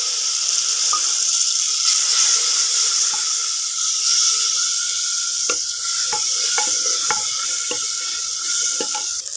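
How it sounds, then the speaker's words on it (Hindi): Curry spices with salt, turmeric and crushed red chili sizzle and hiss loudly in a pan as a splash of water is added, followed by a series of sharp scrapes from stirring. "यहाँ मैं थोड़ा सा पानी डालूंगी, मसाला हमारा जल ना जाए।"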